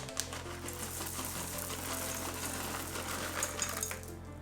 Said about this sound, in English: Time to add in your chocolate chips.